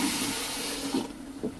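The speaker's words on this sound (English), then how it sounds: "you'll hear the water flow" Water rushes steadily through an RV toilet into the black water tank of a vintage Airstream, a constant close hiss of flow that eases slightly near the end.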